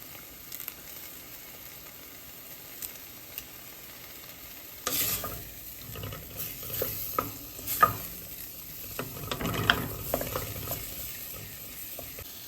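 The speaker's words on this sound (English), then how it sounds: "Next, add your frozen peas. Give everything a good mix." Frozen peas are stirred into a pumpkin quinoa risotto in a hot pan: soft sizzling throughout, then scraping, clattering spoon strokes and wet stirring noises that grow louder partway through.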